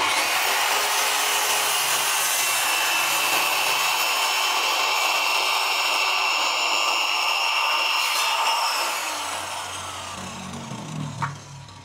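An APR AP25 Promax circular saw fitted with a 60-tooth blade cross-cuts a piece of wood, giving a loud, steady high-pitched whine and rasp that runs for about eight seconds, then winds down and fades as the cut ends.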